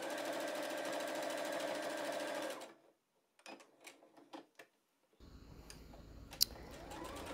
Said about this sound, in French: On vient allonger légèrement notre point et on commence la couture.